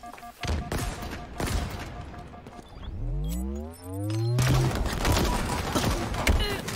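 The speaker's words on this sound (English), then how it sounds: "Grenade." A grenade going off in a shooter video game, heard as a rising whoosh and then a loud, close blast with crashing debris, amid constant gunfire before and after.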